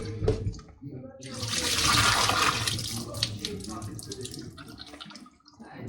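Tap water runs into a bowl while raw chicken is rinsed and swirled during cleaning for Jamaican-style baked chicken, a steady close splashing rush that swells in the middle and tapers off.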